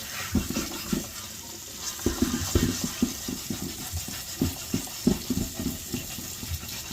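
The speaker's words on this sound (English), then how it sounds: "Now I have a new Scotch-Brite pad on here. Let's see if we can" A new Scotch-Brite pad scrubs light surface rust off cast iron in quick, uneven strokes, producing close, rough scratching bursts over a steady background hiss.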